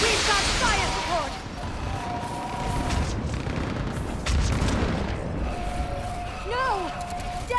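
Gunfire and artillery support in Mass Effect combat, with a constant rumbling barrage and scattered booms under tonal whooshes and streaking effects, loud and dense, while voices call out over it.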